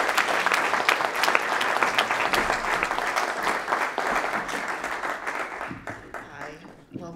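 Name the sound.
audience round of applause for a speaker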